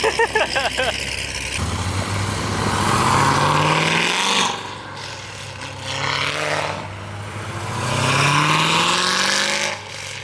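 Performance cars leaving a dealership open house rev their engines loudly, with rising and falling roars and surges as they pull away one after another, close by and without any talk.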